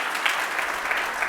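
An audience applauds the announcement of a community challenge winner at an Arduino Day event, steady clapping from a moderate crowd that is fairly soft and continuous throughout.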